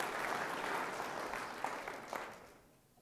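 A church congregation breaks into steady applause, a dense wash of clapping that holds strong for about two seconds and then tapers off toward the end.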